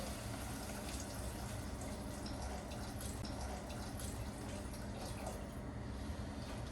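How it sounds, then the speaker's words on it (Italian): Water poured into a cooking pot for a vegan pasta e fagioli with potatoes: a steady, quiet rushing stream of liquid, continuous and even from start to end with no talking. "Adesso aggiungiamo l'acqua."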